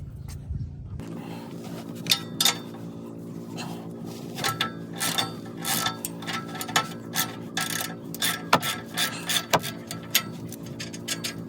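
A hand ratchet driving a 19 mm socket to remove the exhaust nuts on a Hyundai Elantra N, a rapid series of sharp clicking bursts in uneven runs, close and distinct with no talk.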